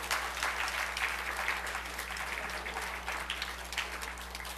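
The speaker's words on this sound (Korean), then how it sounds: "박수 한번 해주세요" Church congregation clapping during a Sunday morning worship service, a steady, moderately distant round of applause lasting several seconds over a low electrical hum.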